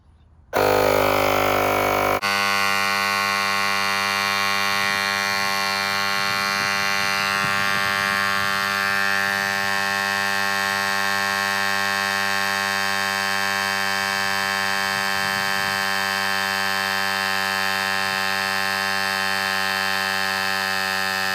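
Lokithor jump starter power pack's built-in air pump inflating a car tire to 27 psi, a loud steady electric buzzing drone that runs continuously for about twenty seconds after a brief harsher start-up burst.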